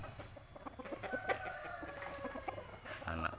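Morning chickens bred as fighting roosters clucking softly and repeatedly nearby, with a faint rooster crow rising among them against a quiet background.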